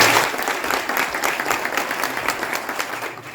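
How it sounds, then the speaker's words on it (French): Audience in a French Senate hall gives a dense, steady round of applause for Jean-Louis Borloo, many hands clapping close and loud, fading slightly toward the end. "Je vous demande de l'applaudir"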